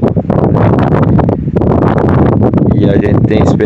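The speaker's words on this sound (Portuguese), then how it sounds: "Vai passando o tempo e o vento só aumenta" Strong wind roars and buffets a microphone continuously during traíra fishing, loud and gusty throughout with no pause.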